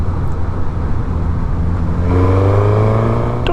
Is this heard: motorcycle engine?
yes